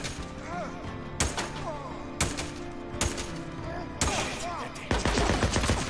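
Gunfire in Days Gone, a handful of sharp, loud shots spaced about a second apart over a busy game backdrop, with a voice talking between them.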